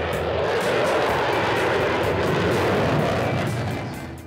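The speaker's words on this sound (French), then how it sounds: "Rugissant dans le ciel de Bangalore, dans le sud de l'Inde, un balai aérien pour ouvrir l'un des plus importants salons de l'armement en Asie." Fighter jets roaring overhead at an air show opening an arms fair in Bangalore, southern India, a loud sustained rushing engine roar that swells and then begins to fade.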